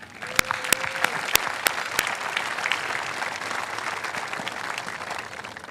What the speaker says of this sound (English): I would like to show my appreciation for you with another round of applause.